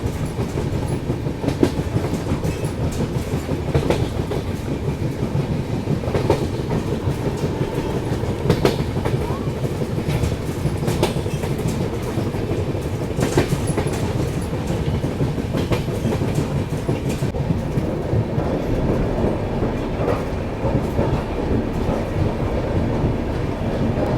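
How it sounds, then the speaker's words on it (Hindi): The Khajuraho Udaipur Express, a passenger train running hours late, rolls out of a station. Wheels clatter in a steady clickety-clack over the rails, loud and close, as carriages rock along throughout. "फाइनली अभी अपनी ट्रेन निकल रही भाई"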